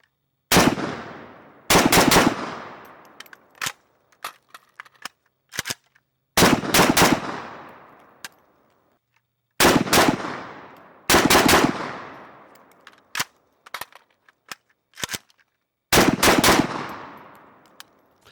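A Zastava ZPAP92 carbine fires in loud, sharp strings of rapid shots, with short pairs and single cracks between them, each burst ringing out with echoing decay and brief quiet gaps.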